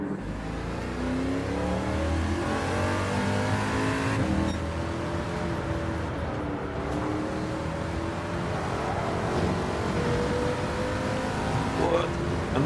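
Ferrari engine revving in the racing game Gran Turismo 7, a continuous rising and falling drone through gear changes, steady and fairly loud, with a person talking over it.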